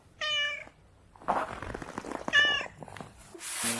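A cat meows twice, clear and close, with rustling and crunching movement between the calls and a burst of broadband noise at the end, no talking.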